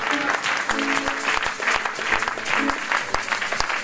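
Congregation in a church clapping together in a steady, lively rhythm, the applause loud and continuous and filling the room, with scattered voices mixed in among the claps.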